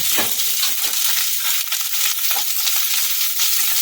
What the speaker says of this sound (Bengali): এবার আমি এর মধ্যে দিয়ে দিলাম পেঁয়াজগুলো পেঁয়াজ আর ক্যাপসিকাম একসাথে আমি দিয়ে দেবো